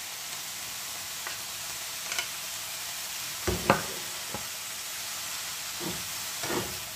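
Cabbage and capsicum fry in a pan with a steady, soft sizzle and hiss, broken by a few scraping stirs, the loudest a clatter midway.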